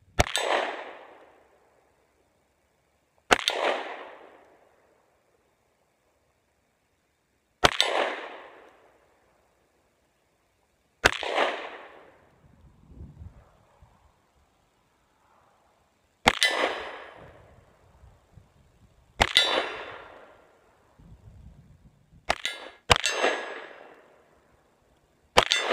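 Eight sharp, loud reports from a stainless Ruger SP101 .357 Magnum revolver ring out outdoors, each shot followed by a ringing clang off AR500 steel targets, spaced a few seconds apart with faint rustling between.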